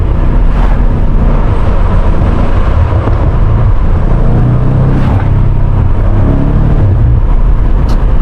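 A BMW M5 Competition with its stock exhaust rumbles loudly and steadily on back roads, heard from inside the car with a continuous low engine drone and road roar.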